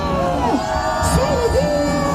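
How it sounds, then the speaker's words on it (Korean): A crowd at an outdoor political rally near Myeongdong, Seoul, cheers and whoops in a steady, dense roar, with shouted voices rising and falling above the general din. "큰 박수! 함성 발사!"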